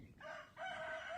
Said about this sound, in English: Now when you hear the rooster calling